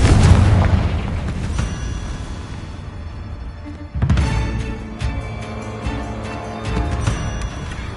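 Two Confringo blast spells go off in the Hogwarts Legacy video game: a heavy explosive boom that rumbles and decays, then a second sharp blast midway followed by crackling debris and smaller bursts, with no voices.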